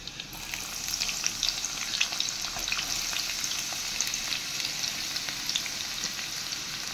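Onion fries in hot oil with garlic in a pan, producing a continuous close sizzle full of fine crackles and pops, fairly soft overall and without voices.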